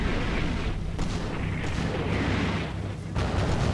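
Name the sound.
artillery shells landing nearby in video game Combat Mission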